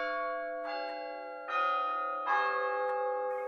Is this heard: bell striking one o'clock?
yes